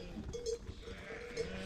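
Sheep bleat in a few faint, short calls from some distance, heard over a low rumble of outdoor background noise.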